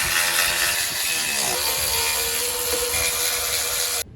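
A ratchet clicking rapidly and steadily while tightening front axle bolts in a garage, a close, continuous mechanical rasp with a slight shift in pitch partway through, stopping abruptly at the end.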